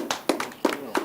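Applause from an audience after a talk, heard as a few sparse, distinct hand claps spread across about a second, with a voice underneath.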